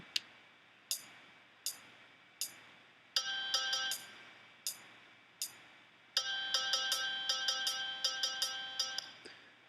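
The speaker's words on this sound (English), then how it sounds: "So that just gives you an audio representation of what that rhythmic figure sounds like" Software playback of a rhythmic figure on a music-reading app: a metronome click ticking steadily, with bright bell-like synthetic notes joining in short rhythmic runs, clean and close.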